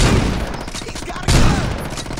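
Dense, overlapping gunfire from the Saints Row 2 video game crackles in fast bursts, loud and close, with a heavier burst of shots about halfway through.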